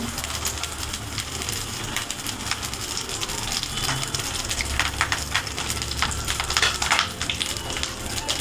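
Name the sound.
frying bhetki fish paturi in a pan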